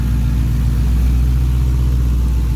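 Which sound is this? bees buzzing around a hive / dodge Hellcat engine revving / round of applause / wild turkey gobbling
dodge Hellcat engine revving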